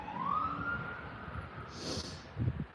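An ambulance siren sounds outside at night, a faint wailing tone sweeping upward and fading in the distance over a low background rumble.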